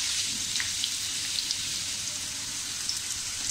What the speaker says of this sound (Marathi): मी हा पहिला कांदा आपला छानपैकी असा हा ब्राऊन कलरमध्ये, असा गोल्डन ब्राऊन कलरमध्ये भाजून घेते